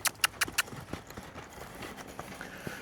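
Horse loping: four sharp hoof clops open in quick rhythm, followed by softer, lighter hoof beats that keep coming at close range.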